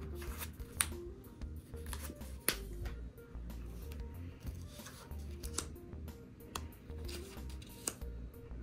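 Playing cards handled at a table for a homemade card game, soft irregular clicks, taps and shuffling rustles, faint and close, with no talking.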